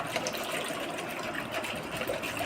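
Water is poured into buttermilk while it is churned by hand, producing a steady splashing, frothy gush that continues evenly at moderate volume with no speech.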